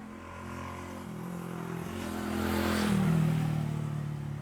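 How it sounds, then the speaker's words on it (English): An FPV drone flying over mountains in Leyte throttles up, its motors humming with steady pitched tones that climb and grow louder midway before holding a strong buzzing drone near the end. "Let's open up the throttle a little bit more."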